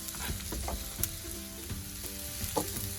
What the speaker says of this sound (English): Now I'm going to add my onions to it.